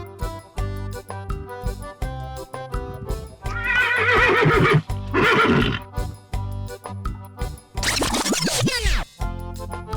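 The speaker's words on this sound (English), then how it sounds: "Horse." A horse whinnies in several loud, shaking bursts, then gives a final descending neigh, all over steady looping background music.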